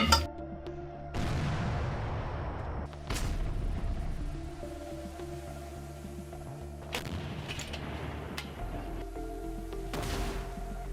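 Artillery guns fire in the Donetsk region, a few distant booms and thuds spaced irregularly over about eleven seconds, faint against a low steady background rumble with no talking.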